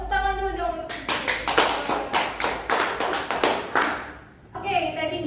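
Children in a classroom clap their hands together in a burst of sharp, rapid claps lasting a few seconds, with talking just before and after.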